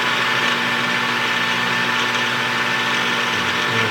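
A small lathe turns a spud on the end of a lead screw handle, giving a steady, close, continuous whir with a faint tonal hum throughout.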